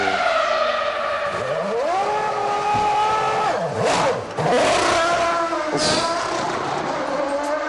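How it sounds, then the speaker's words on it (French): A Formula 1 car, Button's at the 2005 Bahrain race, stalls as the team tries to restart it, giving loud revving engine bursts that rise and cut out, with tyre squeal and crowd noise around it. "Mais il cale, vous voyez, il faudrait qu'il accélère plus."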